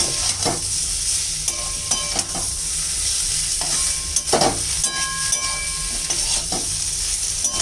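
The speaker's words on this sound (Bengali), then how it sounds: "আলুটাও কষিয়ে নেব।" Boiled potato stir-fried in a pan for a vegetarian dish with pumpkin stems and papaya, with a steady loud sizzle and repeated scraping strokes of a spatula against the pan, no voices.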